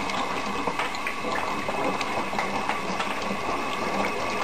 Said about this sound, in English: go ahead and turn on the hot water on your sink